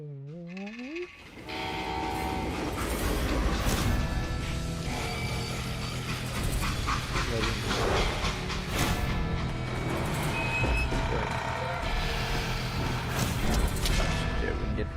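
A steam train coming to a stop, with loud hissing and clanking of railcars, a whistle call at the start and dense mechanical rumbling throughout.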